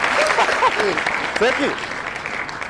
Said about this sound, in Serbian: Lepo, jedan aplauz.